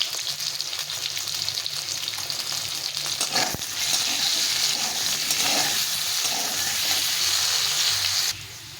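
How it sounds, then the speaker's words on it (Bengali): Potatoes seasoned with salt and turmeric fry in a pan with a steady, close sizzle that grows a little louder midway, then drops off near the end. "একটু লবণ আর একটু হলুদ দিয়ে আলুটা ভেজে নেব।"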